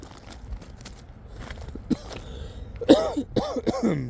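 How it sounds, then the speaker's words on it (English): A man coughs a few times, close and sharp, near the end of the clip, with faint footsteps and rustling outdoors beside a railway track before it. "Sorry for the cough, guys."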